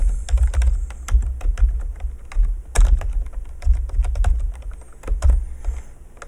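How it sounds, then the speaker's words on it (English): Rapid typing on a computer keyboard, close and fairly loud, with clustered clicky keystrokes and a few heavier thumps in an uneven rhythm, no voices. "I'm going to just tab over, and I'm going to type"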